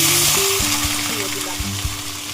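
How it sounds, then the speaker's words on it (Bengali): Small potatoes frying in hot mustard oil in a kadai for a winter aloo dum, giving a loud, close, steady sizzle with occasional pops and light stirring knocks. "আলুগুলো ভেজে নেব।"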